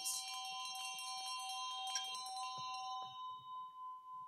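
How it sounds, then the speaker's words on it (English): Bells and chimes ringing together as a sound effect, a sustained shimmering clang of several tones that fades and thins out, with a few soft pulsing strokes near the end. "Sound effects of a cacophony of bells and chimes."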